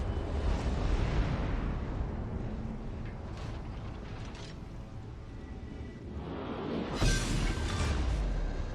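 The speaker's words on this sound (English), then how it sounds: "Torpedoes away." Torpedoes launching from the Iwaki premium cruiser in World of Warships Legends: a dense, rumbling game soundscape with a broad whooshing surge near the end, loud and continuous throughout with no talk.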